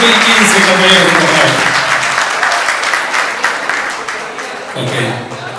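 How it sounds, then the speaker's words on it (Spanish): Company staff at a Casa Grande year-end Christmas awards event burst into loud, sustained applause close by, the clapping thinning slightly toward the end while a few voices carry underneath. "Un aplauso para todos."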